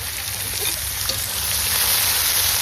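Onions going into hot oil with spices for a Bengali chicken kosha give a steady, close, continuous sizzle and crackle that holds for the whole stretch.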